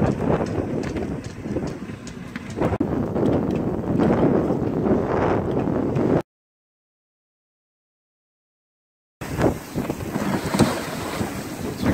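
Strong wind gusts roar and buffet the microphone aboard a sailboat on Bellingham Bay in December, a dense, rushing blow with water and hull noise beneath, cut by a few seconds of silence midway.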